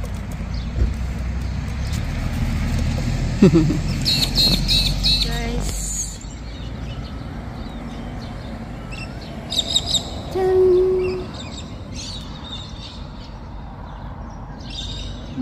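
Small bird chirping at its own reflection in a mirror in the town of Quirindi, New South Wales; scattered short tweets with some bumps and rustles and faint outdoor background.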